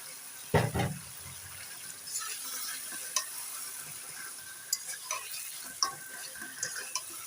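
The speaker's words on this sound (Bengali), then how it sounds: "এখন আমি যে মাছগুলো ভেজে রেখেছি এই মাথাটা, সেগুলো আগে আমি একটু কষিয়ে নেব" Fried rohu fish heads being stirred in a cooked spice paste in a pan, with a few sharp scraping clatters of a spoon against the pan over a faint background sizzle.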